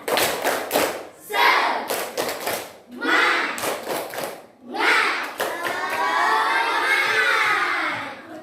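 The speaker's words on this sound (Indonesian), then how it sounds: "Yuk, tepuk semangat dulu." A class of schoolchildren performs a rhythmic group clapping chant in a classroom lesson, sharp claps in bursts alternating with loud chanted shouting from many young voices, ending in a sustained collective cheer.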